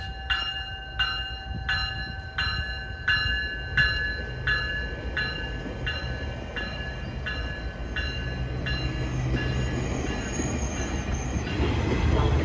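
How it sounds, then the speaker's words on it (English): A GO train bound for Kitchener passes with a series of loud horn blasts, then a growing rumble of wheels and railcars with a squeal of steel near the end. "This train was bound for Kitchener."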